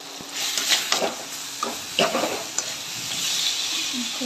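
Garlic and spices sizzle in hot oil as a tempering for Odia-style crab curry, with a steady frying hiss broken by a few sharp stirring scrapes of a spoon against the pan, close and fairly loud, with no talk.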